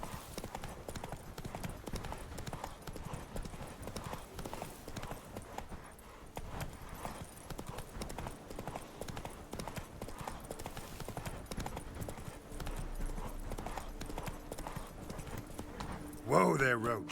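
The horse Roach from The Witcher 3 trots along with steady rhythmic hoof clip-clops, faint and continuous under ongoing talk throughout.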